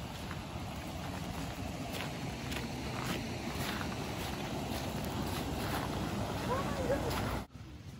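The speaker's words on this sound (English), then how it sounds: "There is a cute and small waterfall," A small woodland waterfall at a glamping site, a steady broadband rush of flowing water close to the microphone with some wind buffeting, continuing evenly before cutting off abruptly near the end.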